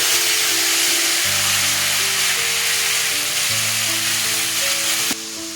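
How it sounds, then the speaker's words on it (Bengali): Tomatoes hit hot ghee in a pan over cumin and sizzle loudly and continuously, a dense close crackle with a low humming tone underneath that steps in pitch, without any talk. "এক চামচ ঘি দিলাম আমি এখন টমেটো ছেড়ে দিচ্ছি"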